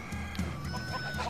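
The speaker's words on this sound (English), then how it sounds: "Oh, hello, Master Chicken." A chicken clucks in the LEGO Ninjago Movie video game, short choppy clucks over busy game sound effects, close and moderately loud, with no talking.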